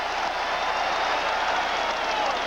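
A capacity basketball arena crowd roars in a continuous wash of cheering and noise reacting to Michael Jordan, steady and dense with no distinct pauses.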